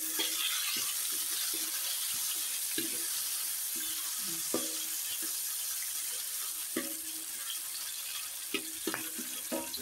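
Sliced red bird's eye chili and tomato sautéing in a pan, a steady bright sizzle with repeated scraping stir strokes and small clinks, close and continuous without talk.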